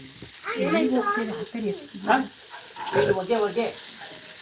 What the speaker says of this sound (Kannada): ನನ್ನ ತಂಗಿ ಫಿಶ್ ಫ್ರೈ ಮಾಡ್ತಿರೋದು